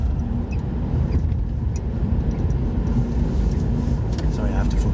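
A car being driven, its steady low engine and road rumble continuing without pause throughout, with some voice-like sound in the cabin.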